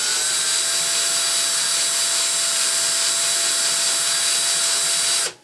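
A Versamatic speed reducer runs in forward mode at a 7-to-1 planetary ratio, producing a steady, loud mechanical whine with a constant hum that holds unchanged for several seconds before stopping abruptly at the end.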